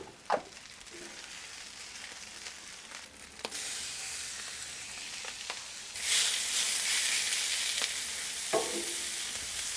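Pork fries in sesame oil on a Blackstone flat-top griddle, a steady sizzle that swells louder as more meat hits the hot surface, with occasional scrapes and taps of a spatula stirring.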